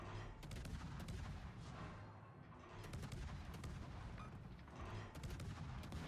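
American Tier 10 destroyer guns firing in World of Warships, a dense, continuous roar of rapid naval gunfire with repeated sharp blasts over a heavy rumbling battle backdrop.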